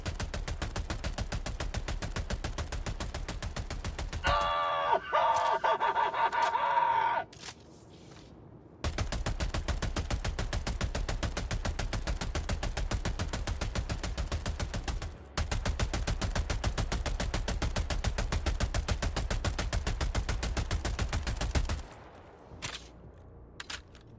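Rapid sustained bursts of Pummeler SMG fire from Helldivers 2 rattle in long continuous strings, broken by short pauses and a brief mechanical reload clatter near the middle, loud and close with no voices.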